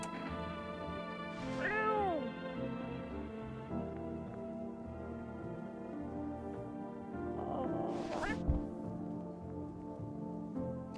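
A cat meows inside a video game where the player can pet and pick it up, two clear meows a few seconds apart set against a steady game music backdrop.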